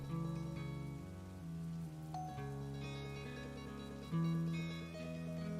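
Steady rain falls in the post-apocalyptic survival city-building game Oxygen: First Breath, a continuous even patter over a bed of tonal game music, clearing snow from the scene.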